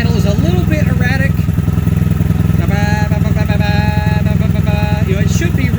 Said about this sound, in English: Notice the idle is a little bit erratic.